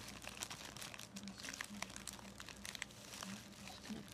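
A plastic bag holding a mailed package crinkles and rustles in soft, irregular bursts as the contents are handled and unpacked indoors.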